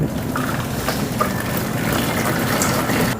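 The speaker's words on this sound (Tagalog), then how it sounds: "Lagyan natin ng mainit na tubig." Hot water pours into an ice box, a continuous splashing gush with bubbling texture that holds steady for a few seconds, close and moderately loud.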